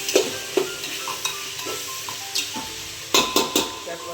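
Pulav ingredients frying in a pan, with repeated sharp clinks and scrapes of a spoon stirring against the metal over a low, steady sizzle, close up.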